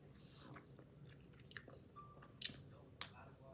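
Someone chews a bite of Angel's Burger bread close to the mic, with soft mouth sounds punctuated by a few sharp crunchy clicks and smacks.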